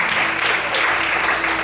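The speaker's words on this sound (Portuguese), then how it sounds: "Você pode aplaudir bem forte ao Senhor essa noite." A church congregation claps loudly together in a dense, continuous wash of applause that holds steady throughout, close and full, with no speech over it.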